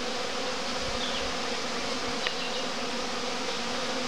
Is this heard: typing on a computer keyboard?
no